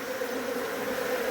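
Bees swarm and buzz around a nectar source, a steady, continuous drone with no break, moderately loud and heard alone with no voices.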